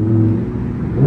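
Supercars arrive at the Goodwood supercar Sunday meet with a brief, steady engine drone nearby that swells louder at the very end.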